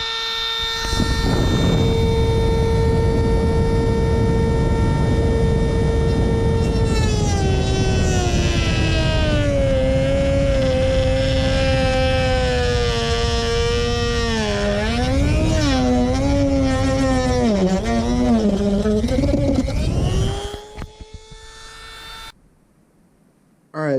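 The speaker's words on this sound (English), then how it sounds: "get that Dremel fired up" A Dremel rotary tool cuts a motorcycle fairing windscreen on a Kawasaki Ninja 636, a loud sustained high whine whose pitch dips and wavers as it bites into the plastic, then stops abruptly near the end.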